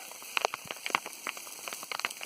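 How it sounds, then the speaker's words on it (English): Afternoon rain and hail fall on a high campsite near Mt Whitney on the John Muir Trail, a dense irregular patter of close drops and sharper pellet ticks over a steady hiss. "some afternoon rain and hail has come in"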